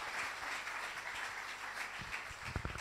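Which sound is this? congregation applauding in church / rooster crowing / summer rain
congregation applauding in church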